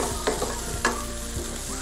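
Beef sizzling in a pan with onion and garlic, a loud continuous fry with a few scraping stirs, close up and without talk.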